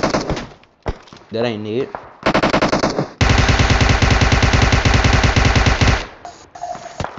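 Rapid automatic gunfire in a video game, a long, loud, sustained burst of machine-gun fire after a few shorter shots, with people talking briefly around it.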